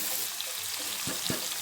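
Onions sizzle in a hot pan for bansi rava upma, giving a steady, soft hiss of frying with a couple of brief clinks near the end.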